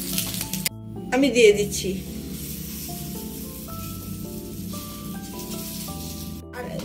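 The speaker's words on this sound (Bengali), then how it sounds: "তেল আর ঘিটা মিক্স করেছিলাম যে, সেটাকে দিয়ে অল্প ভেজে নিচ্ছি" A roti fries in a pan with a mix of oil and ghee, a soft hiss and sizzle under a woman's brief speech and steady background music.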